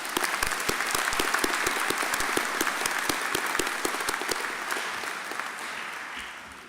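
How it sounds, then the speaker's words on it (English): Graduates applauding at a graduation ceremony, a full crowd of hands clapping in a dense, even wash that gradually fades over several seconds, with no talking on top. "let's give each other a big round of applause."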